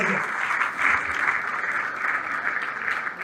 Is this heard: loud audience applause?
yes